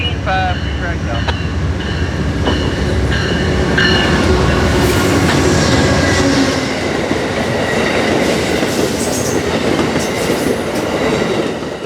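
Amtrak train 97 from Miami rolls past on track 2 in Virginia, a loud, sustained rumble of wheels and rail noise with clicking joints and faint squeal, close and continuous throughout.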